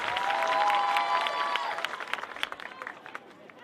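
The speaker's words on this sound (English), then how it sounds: "You can hear the crowd having a little bit of a different roar with her up to bat." Crowd noise at a Florida Vibe vs New York Rise women's pro softball game as a batter steps up, a loud sustained roar with whistles and cheers that thins into scattered shouts and claps.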